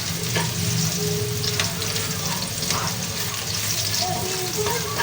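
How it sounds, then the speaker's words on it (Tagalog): Garlic sautéing in a hot pan gives a steady, close sizzle and crackle, with light stirring and pan scrapes throughout and no talking. "Gisa-gisa lang po tayo."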